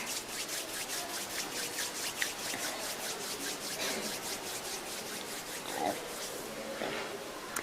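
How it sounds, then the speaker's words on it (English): Palms of the hands rub together in a quick, steady back-and-forth rhythm, a soft dry swishing repeated many times, fairly close and quiet, with faint background noise. "gently rub the palms of your hands against each other"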